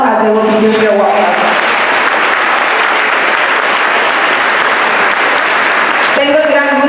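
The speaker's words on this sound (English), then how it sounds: "So please give them a round of applause as they will be doing their welcome." Audience at the opening ceremony of the 2022 MCS All Star Classic, Salinas Union High School District, applauds in a dense, steady round of clapping lasting several seconds, with voices heard briefly at the start and end.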